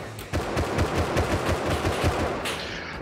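Rapid automatic gunfire in Rust, a loud close burst of evenly spaced shots lasting over two seconds, then a short fade, with no voices.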